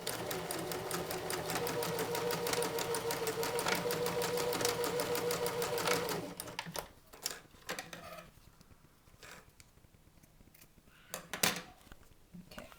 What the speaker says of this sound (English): using a zigzag stitch, we're going to sew that close